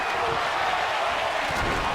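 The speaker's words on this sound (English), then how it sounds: "Now the crowd's chanting for tables, and the champion's going to oblige them" Arena crowd noise in a wrestling video game, a dense, steady roar of fans chanting for tables that fills the entire stretch, with no clear break or separate voice.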